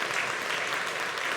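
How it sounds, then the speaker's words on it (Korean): A church congregation claps to welcome a missionary couple during a Sunday service, a brief, steady wash of applause. "우리 환영의 박수 하겠습니다"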